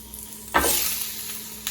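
A sudden loud sizzle erupts as frozen burgers hit a hot pan, then settles into a steady frying crackle.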